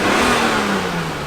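Car engine on a bone stock exhaust, 34 GTT build, revving steadily with a smooth rising-then-falling whine, close and loud, no voices.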